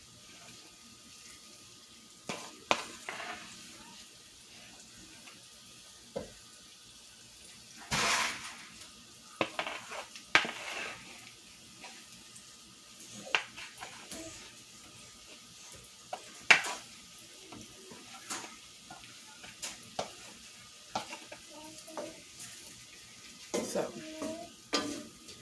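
Food cooking in a pan for a home dinner, with faint sizzling and stirring scrapes, scattered utensil clicks and occasional water running in a sink, a brief bit of talk near the start.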